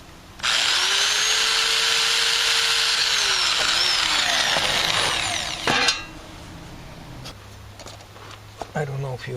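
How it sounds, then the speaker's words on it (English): A power drill whirs loudly and steadily for several seconds while drilling a hole in car body panel, its pitch dipping under load, then stops, followed by faint clicks and handling noises. "I'm going to drill a hole in here first and then go into here"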